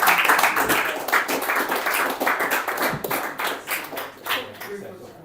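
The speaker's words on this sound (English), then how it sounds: "Another round of applause for Rob then, I think." An audience at a live broadcast event applauds guest Rob Munday: dense, close hand clapping that swells and fades in uneven waves, with voices talking over it.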